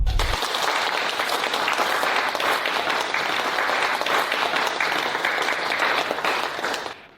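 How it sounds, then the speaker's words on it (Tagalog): A large audience bursts into loud, sustained applause for an award recipient at a ceremony, a dense wall of clapping that holds steady for about seven seconds before fading quickly at the end. "Bigyan natin siya ng malakas na palakpak."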